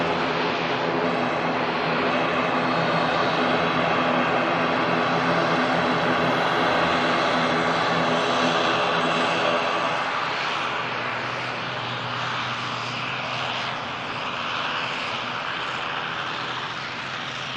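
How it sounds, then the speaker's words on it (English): A propeller aircraft taxis past at Manchester Airport, its engines a loud, steady, close droning roar that eases slightly as it moves on. "Just let this prop go past."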